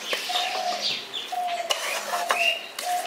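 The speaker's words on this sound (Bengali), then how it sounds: "এখানে দেখুন আমি ভালো করে সমস্ত কিছু মশলাগুলোকে একসাথে দিয়ে ভালো করে মিশিয়ে দিচ্ছি" A spoon clinks and scrapes in a bowl as spices are stirred together for a mola carplet fish curry, with a run of light metallic taps and swishes and faint high chirps behind.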